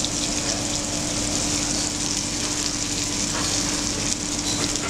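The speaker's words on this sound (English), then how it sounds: "And then we cook very, very quickly on a very hot oil." Flour-dredged squid frying in very hot oil, a loud, steady hiss and sizzle that runs unbroken from start to finish, close and dense.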